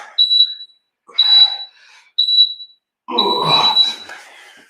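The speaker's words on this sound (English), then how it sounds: "that timer definitely lets you know. It's pretty damn loud." A loud workout interval timer beeps during a home HIIT session: three sharp, high electronic beeps about a second apart, then a longer fourth tone over rustling movement.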